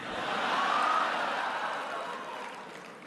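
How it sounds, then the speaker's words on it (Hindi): A large audience applauds through most of the moment at an Indian community address by Prime Minister Modi in Berlin. The clapping is a dense, steady roar that swells early and then eases slightly, with no speech over it. "तालियां तो अब बजने वाली है।"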